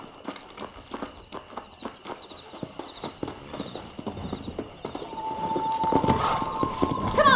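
Horses gallop in the video game Red Dead Redemption, a rapid, rhythmic clip-clop of hooves that builds into a denser rushing clatter with a rising whine toward the end.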